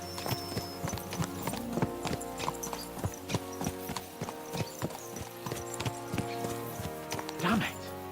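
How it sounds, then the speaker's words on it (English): Horses' hooves clip-clop steadily in the video game Kingdom Come: Deliverance II, a brisk rhythmic trot over a constant background of ambient game sound, with a short snort or whinny near the end. "Let's really spur these horses on, eh?"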